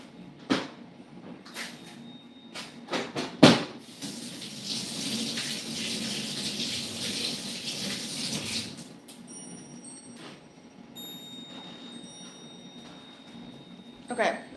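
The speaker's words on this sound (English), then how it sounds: "I have to wash my hands now because the eggs are disgusting" Hands rinsed under a running kitchen tap while baking carrot cake, a steady broadband wash of water lasting several seconds, framed by a few sharp clatters and knocks of cupboards and utensils, with faint talk nearby.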